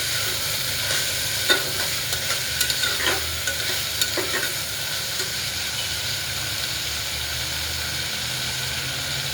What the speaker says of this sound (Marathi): गवार स्वच्छ धुवून घेतलेले ते टाकून दिले तेलामध्ये. एकदा एकजीव करते कांदा, टमॅटो आणि खोबऱ्यामध्ये.